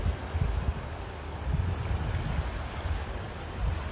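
Lester Creek flowing under a small bridge near a highway in Duluth, a steady rushing wash of water with low rumbling, continuous and fairly close, no talking.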